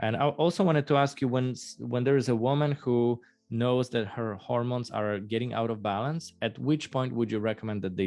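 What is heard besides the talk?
None of the usual background noises is heard.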